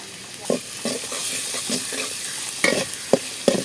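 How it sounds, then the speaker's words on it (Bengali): Sliced onions fry in hot oil in a pan for a chicken and potato curry, a soft steady sizzle broken by a series of close scraping stirs with a spoon, and no voices. "পেঁয়াজ দিয়ে দিলাম"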